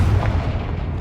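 A Confringo explosion spell goes off in Hogwarts Legacy: a single dense, booming blast with a heavy low rumble that lingers steadily for about a second, loud and close, with no talk.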